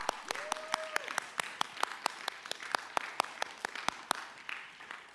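Audience applause breaks out at a high school fine arts awards ceremony honoring theater students, a run of sharp, fairly sparse claps close by, with a brief tonal whoop or voice partway through.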